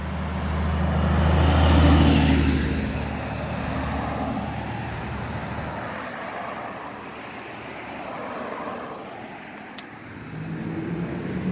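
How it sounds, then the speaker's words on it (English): Road traffic rumbles past a parked hotshot truck beside a Texas roadside ditch, a loud low vehicle swell building in the first seconds and fading, then a steady distant traffic hum. "Now it's traffic coming"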